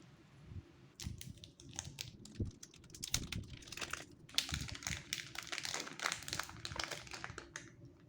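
Crinkling and tearing of plastic packaging as a Moyu Weilong WRM 2020 speedcube is unwrapped from its clear case, a steady run of close, crisp rustles and crackles with no talking.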